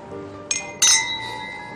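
Drinking glasses touch in a toast, giving two bright, ringing clinks in quick succession close to the microphone. The second clink is louder, and its tone rings on and fades against a quiet room.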